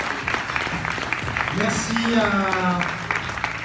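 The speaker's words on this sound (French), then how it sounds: "Je voudrais qu'on les applaudisse bien fort" Audience applause at a short film festival awards ceremony, a broad patter of many hands running under someone speaking into a microphone, with the clapping swelling slightly midway.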